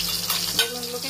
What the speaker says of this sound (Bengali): তেল দিয়ে বেগুনগুলোকে ভেজে নেব।